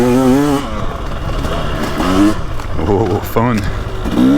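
Engine of a dirt bike, a 2023 Yamaha YZ450F or KTM 300XC, revving and spooling up on a slippery woods trail, rising and falling steadily beneath a rider's close talk and exclamations.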